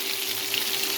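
Tomatoes and carrots sauté in hot oil for beef caldereta, giving a steady, dense sizzle that holds evenly throughout at moderate volume.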